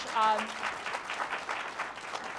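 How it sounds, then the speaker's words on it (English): Audience applause in a university hall, moderate clapping that carries on steadily after a brief voice at the start. "I just want to give another round of applause for Tory Burch"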